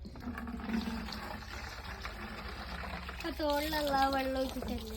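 Water poured into a small toy dam, a steady splashing wash running through the whole stretch while a voice and other talk carry over it toward the end.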